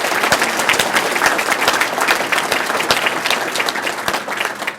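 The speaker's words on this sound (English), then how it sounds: "I think it deserves another round of applause." Steady, dense round of applause from a dinner crowd at a church's 50th anniversary celebration, sustained and fairly loud throughout with many overlapping claps.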